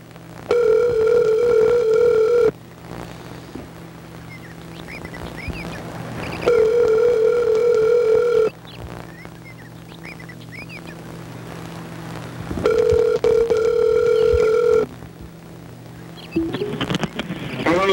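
A phone rings while a call to a grandmother is placed: a steady electronic ring tone repeats in loud two-second bursts with pauses of several seconds between them, clear and close with no talking.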